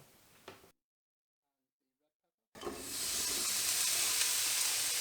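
Chilli, onion and pepper hitting a hot pan and sweating down, a brief clatter, a gap of silence, then a sudden steady bright sizzle that carries on close and loud.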